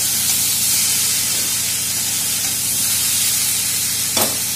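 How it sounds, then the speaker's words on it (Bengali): Pumpkin and potato curry sautéing in a pan gives a steady, close hiss of frying throughout, with a brief louder scrape of stirring near the end and no talking. "এভাবে ভালো করে কষিয়ে নেবে"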